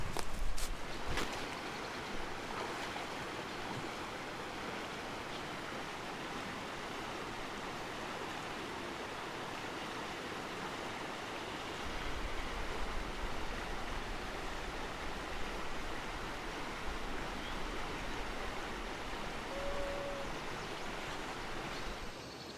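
River flowing through the Nantahala National Forest at a backcountry campsite, a steady broadband rush of water that stays continuous and fairly close throughout, with a slightly deeper surge partway through.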